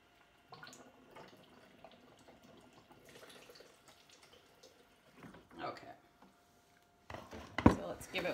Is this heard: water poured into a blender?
yes